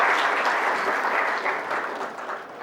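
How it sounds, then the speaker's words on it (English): Warm audience applause for panel members and guests at an international Olympic research conference session, a full, even clapping that fades slightly toward the end. "A big round of applause for the panel members and the guests."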